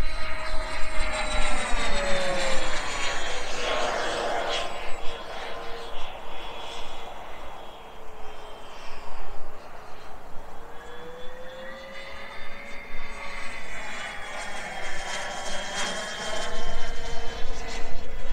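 Xicoy 45 micro turboprop model aircraft on its first flight, its engine whine rising and falling as it passes near and far overhead, with voices talking faintly at times.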